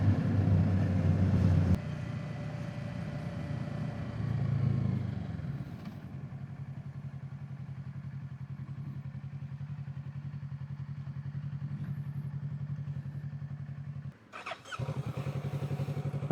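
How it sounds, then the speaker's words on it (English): A loud motorcycle passes close by on a road near a reservoir, its engine roaring hard at first, then settling into a steady drone before a short dip and a second burst of engine noise at the end. "A flippin' loud bike."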